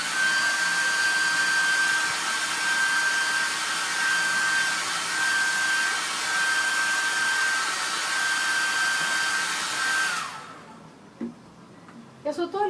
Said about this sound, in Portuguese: Eu só estou agilizando a secagem com o secador, não vai influenciar nada na pintura.